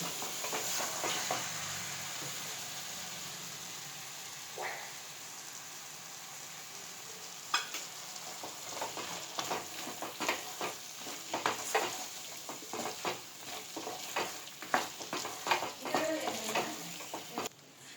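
Chicken sautéing in a pan with steady sizzling and frying, with scattered stirring scrapes and clinks that grow busier toward the end.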